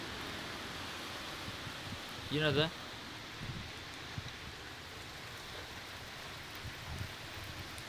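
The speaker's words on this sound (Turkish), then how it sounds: "Yağıyor ve yine yağıyor." Summer rain falls steadily in Germany, a soft continuous hiss of light drizzle, with a brief spoken phrase over it.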